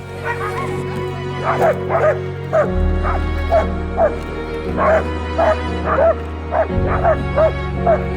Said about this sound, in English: Look how excited all the dogs are.